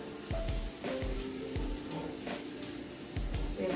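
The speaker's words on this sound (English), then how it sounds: "We're sauteing our onions." Onions sauté in a pan for a Caribbean fish dish: a soft, continuous sizzle broken by regular low thumps and scrapes as they are moved about.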